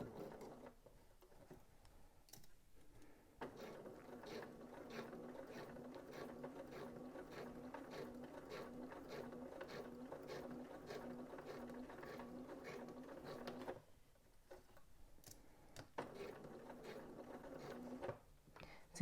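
A sewing machine stitches slowly with a presser foot guiding fabric near a zipper's teeth, a steady soft mechanical rhythm running several seconds, pausing, then resuming briefly; quiet and close.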